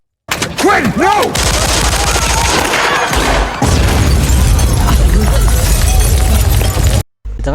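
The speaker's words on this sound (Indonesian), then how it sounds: "Quinn pun tertembak oleh salah satu polisi dan seketika bom yang mereka pasang pun meledak" Police gunfire and a planted bomb blast in an action-film shootout: rapid bursts of shots and booming impacts, loud and chaotic, with shouted voices early on and a sudden cut to silence near the end.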